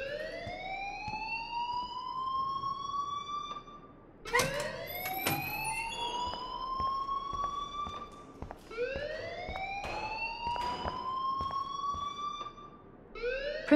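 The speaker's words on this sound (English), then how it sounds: "please turn off that alarm since that's your job" Electronic school alarm in the Life Is Strange video game, a loud rising siren-like wail that repeats in sweeping cycles roughly every four seconds, with no talk over it.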